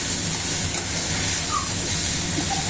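Raw banana and shrimp curry masala being sautéed in a pan gives off a loud, continuous close-up sizzle with a faint undertone of stirring, and no talk.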